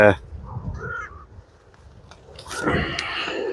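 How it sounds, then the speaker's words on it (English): Crows caw outdoors near a vegetable garden with raised beds, a harsh call at the start and a louder burst of cawing toward the end, with a voice talking in between. "birds coming through that."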